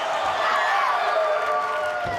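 Women's wrestling arena crowd cheers in a steady, dense roar throughout, loud and continuous with a commentator talking over it.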